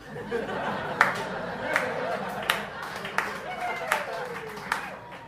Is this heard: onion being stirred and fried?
no